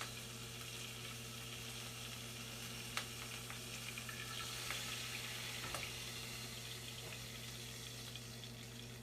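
Burger patties fry in grease in a pan with a steady, soft sizzle and hiss over a low hum, broken by a few faint clicks. No one speaks.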